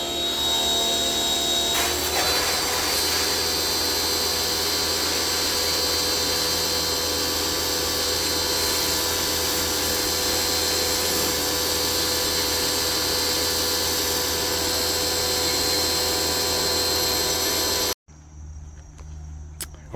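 A broken power washer runs steadily for a long stretch, a loud harsh whine with a high drone while cleaning a BBQ grill, then cuts out abruptly near the end, leaving a quieter hum.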